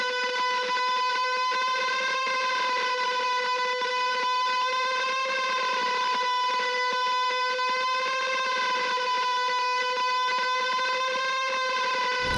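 Shoegaze bending guitar lead played through the Guitar Rig 7 JB Metal Rhythm 3 preset, drenched in large reverb, sustaining and gliding continuously without a break, loud and close, with no voices.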